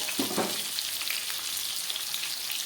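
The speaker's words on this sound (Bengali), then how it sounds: "আলু পটলটা খুব ভালো করে ভেজে নিলাম" Cut potato and pointed gourd fry in hot oil in a pan, giving a continuous close sizzle with a few soft stirring knocks near the start and no talking.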